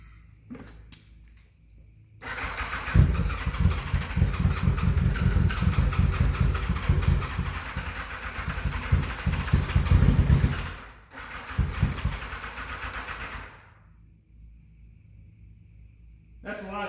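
A long-stored barn-find Yamaha FJ1100 or Honda GL1200 motorcycle engine fires up after a quiet start, idling with a steady rumble, briefly cuts out, runs again, then stops; a bad exhaust seal is suspected.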